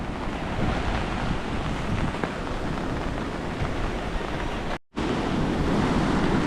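Rough, constant roar of crashing sea surf at high tide during a typhoon, with strong wind buffeting the microphone and a brief dropout near the end.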